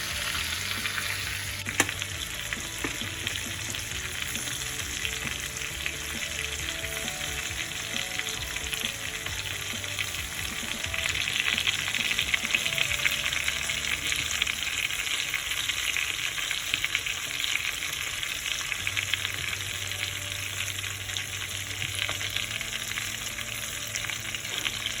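Ribeye steak frying in a pan with thyme, rosemary and garlic butter, giving a steady, close sizzle with crackling spatter that swells in the middle, alone without talking.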